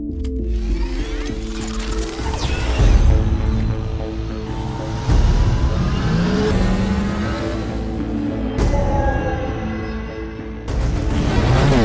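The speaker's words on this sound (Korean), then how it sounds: "목숨을 건 바이크 경주를 하게 됩니다" Motorbikes in a movie race, with loud engines revving and whining and rising in pitch, plus mechanical clatter and sudden cuts between shots, dense and continuous with no voices.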